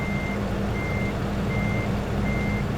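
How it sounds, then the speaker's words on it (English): A car alarm in American Truck Simulator sounds a steady two-tone beep in regular on-off bursts, about four pulses over a constant low truck-engine rumble. "enough to set the car alarm off"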